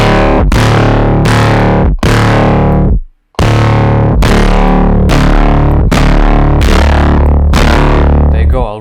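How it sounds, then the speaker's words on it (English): Synthesized Benny L-style foghorn bass, heavily distorted, plays as a series of loud sustained notes with sharp attacks, about ten hits in a steady pattern with one short gap of silence. "you can create a whole library of your own foghorns"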